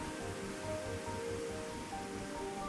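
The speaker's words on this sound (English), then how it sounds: "I could hear the sounds of nearby river" Steady broadband rush of flowing water, constant and enveloping like a river roaring through a valley in the distance, near Jenny Lake in Grand Teton National Park, with no voices.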